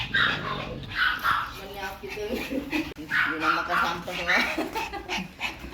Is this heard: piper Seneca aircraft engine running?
no